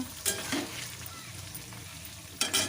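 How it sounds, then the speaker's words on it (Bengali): Paneer cubes frying in a pan, a low steady sizzle broken by a few sharp stirring scrapes near the start and end. "সেই পনিরটাকে ভেজে নিচ্ছি"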